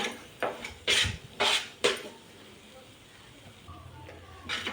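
Khoa stirred and sautéed in a pan over a low flame for Marathi-style pedha. There are several sharp metallic scrapes and clinks of a spoon against the pan early on, then quieter soft stirring.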